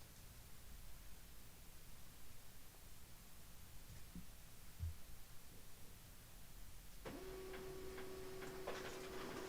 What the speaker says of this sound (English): The sound of a printer hard at work.